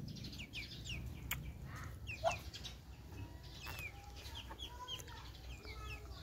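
A small flock of backyard chickens, kept alongside ducks, clucks and chirps in scattered short calls, faint and close against a low background rumble, with no voices.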